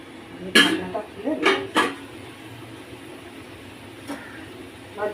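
A metal lid comes off a pot of simmering lentil-fritter curry with a few light clanks and scrapes against a low kitchen hum.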